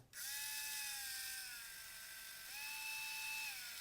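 A cordless electric screwdriver whirs steadily, its motor whine dropping in pitch and then rising again as the speed is changed, close and alone after a brief click at the start.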